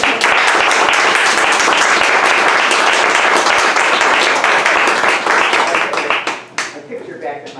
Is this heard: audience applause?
yes